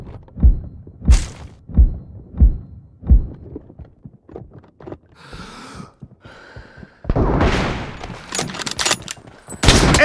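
Rifle shots from an M24 sniper rifle in the PUBG video game, five loud booming reports at a steady spaced rhythm, followed by quieter game sounds and a later burst of dense rapid gunfire.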